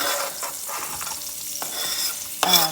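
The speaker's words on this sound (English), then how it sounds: "Now I'm going to add the onion and" Onion and pepper go into a hot frying pan and sizzle steadily, with stirring scrapes and a louder hiss burst near the end, close and fairly loud, with no talking.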